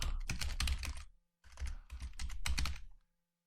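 Quick, close bursts of keyboard typing entering a web address during an InstallShield 2011 patch setup, two clattering runs separated by brief silent pauses, with no talking.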